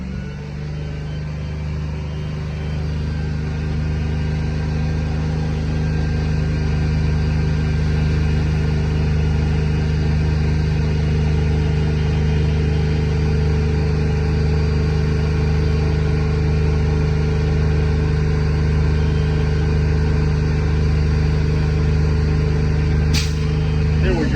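A Class B truck engine idles steadily while its air brake system builds pressure, a constant low rumble with a faint rising hum and a brief sharp hiss near the end; no one speaks.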